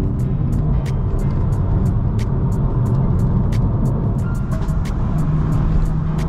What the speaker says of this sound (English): You know, the exhaust isn't too intrusive.